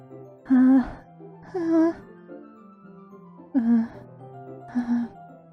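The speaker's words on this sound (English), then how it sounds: "A sharp inhale, like someone is sucking the air through their teeth." Sharp inhales sucked through the teeth, heard as four separate gasping breaths spaced across the clip over a soft sustained musical tone, a tense breathing effect in a visual novel video game.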